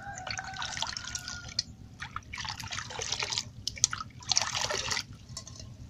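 AB Mix hydroponic nutrient liquid poured into water and mixed, giving close trickling and dripping bursts that come and go in several pours over a low background hum.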